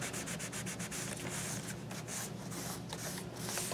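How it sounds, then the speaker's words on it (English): Collage paper is burnished down by hand, making a steady, close, dry rubbing that rasps on without a break and with no voices. "And burnish that down."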